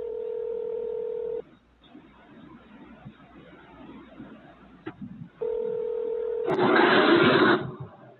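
Phone tones while placing a call: a steady tone, a pause, then the tone again, followed by a louder burst of harsher ringback or dial sound near the end, heard clearly and close up.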